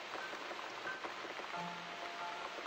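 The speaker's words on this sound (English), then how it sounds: "Looks like we got the rain back." Steady rain falls in the video game The Cat Lady, an even, continuous wash of patter with faint tonal ambience in the background and no speech.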